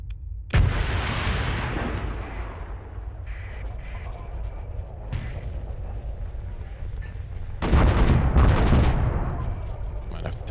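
Artillery fire-support barrage in a video game: heavy booming blasts and rumbling explosions roll continuously for several seconds, with a loud fresh volley near the end, fairly close and dense.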